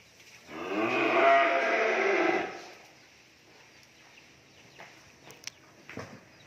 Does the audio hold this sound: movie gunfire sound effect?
no